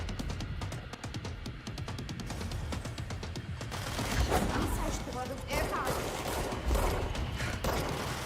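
Gunfire in the video game Control, rapid mechanical bursts and clattering shots running continuously with the player talking over them.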